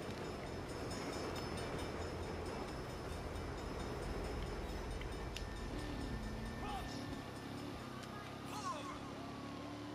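A train rolls past in the Saints Row video game, a continuous rumbling roar layered with other game noise while a voice talks over it.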